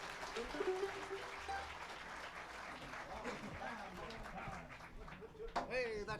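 An audience gives faint, distant applause for a bluegrass band in Summersville, West Virginia, 1997, a soft patter of clapping with voices mixed in.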